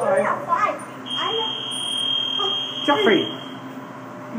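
A steady high-pitched electronic alarm tone from an Otis hydraulic elevator in a parking garage rings for a few seconds while people talk nearby.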